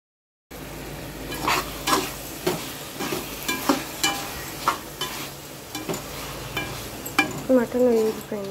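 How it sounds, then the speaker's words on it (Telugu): Mutton pieces fry over low heat in a pan, a steady sizzle under repeated scraping stirs of a spoon, each stroke a distinct swish, close and moderately loud with no talking. "సిమ్లోనే ఉంచుకొని కొంచెం మగ్గించుకోవాలి ముక్క కొంచెం ఫ్రై అయ్యేలాగా"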